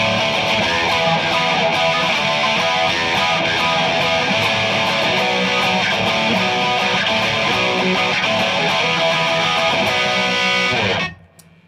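Electric guitar through a Tube Screamer overdrive pedal, a dense, mid-heavy crunchy distorted tone played continuously and loudly, cutting off abruptly at the end.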